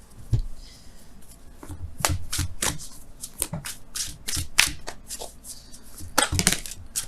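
Oracle cards are shuffled close by in a quiet room, making soft riffling and sharp slapping clicks in uneven bursts.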